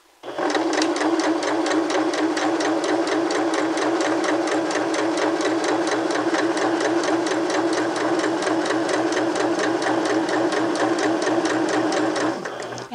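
A sewing machine stitches steadily along a garment seam, following a previous line of stitching, its rapid even needle rhythm running loud and close without a break for about twelve seconds before stopping.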